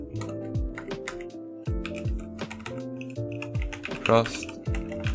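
Rapid, uneven clicking of keys on a computer keyboard, close and clear, with a faint tonal background underneath.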